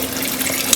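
A tablespoon of water trickles into a plastic bag of powdered meal mix in a home kitchen, a soft, brief pour lasting under a second.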